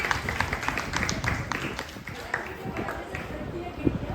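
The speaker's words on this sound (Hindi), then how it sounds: "किरण मैम के लिए जोरदार तालियां हो जाए" Audience applause for a performer at a cultural arts program, dense scattered clapping that stays steady for about four seconds under an announcer's voice.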